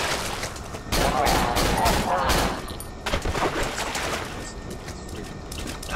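Rapid Glock pistol gunfire in Cry of Fear, with a loud cluster of shots near the start and a second burst midway, then quieter shots under someone talking.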